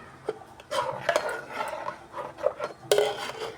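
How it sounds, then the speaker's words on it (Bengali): A spoon stirs jaggery melting in a hot pan with cashews and raisins, giving soft scraping rubs and several sharp metallic clinks against the pan, close and moderately loud. "এখন গুড়টা গরম থাকতেই একটু নেড়ে নেড়ে গলিয়ে দিচ্ছি।"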